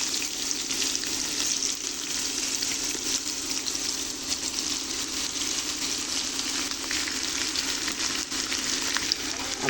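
Potatoes and carrots frying together in a pan with onions for a potato bhaji, a steady close, dense sizzle with occasional stirring scrapes, no voices.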